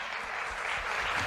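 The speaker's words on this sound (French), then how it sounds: "On les applaudit." An audience thanks conference speakers with a brief burst of dense, continuous clapping, fairly close and even in level throughout.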